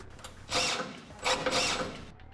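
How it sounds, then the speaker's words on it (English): A power drill drives a self-tapping screw into the frame of a 1995 Chevrolet C/K truck in two short, whining bursts close by, with a brief pause between them. "We'll go use a self-tapping screw to make that ground."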